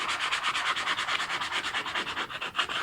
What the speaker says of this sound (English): just going to take a little bit of sandpaper to this leather bag, give it a light rub